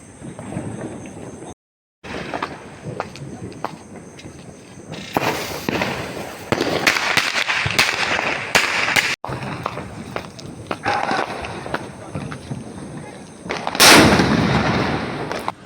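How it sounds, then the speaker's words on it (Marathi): Diwali firecrackers pop in quick bursts, then a heavy sutli bomb bangs loudly near the end, echoing outdoors. "मी फटाके घेतो एक सुती बॉम्ब आणि एक शेवण शॉट घेतो तर आता ते पण ऐका"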